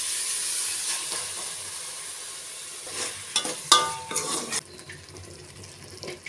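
Ginger-garlic and tomato-onion paste frying in a pan, a steady sizzle with a louder burst of spattering and stirring clatter in the middle before it settles again.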